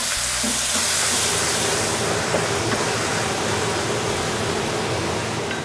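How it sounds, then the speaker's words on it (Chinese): Liquid from steamed pumpkin hits a hot wok holding seasoned shrimp, setting off a loud, steady hiss and sizzle that fills the whole stretch, with a brief low hum at the very start. "南瓜水倒进去"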